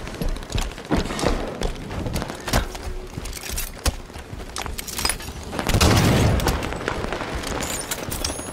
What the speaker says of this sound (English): Taking rocket fire!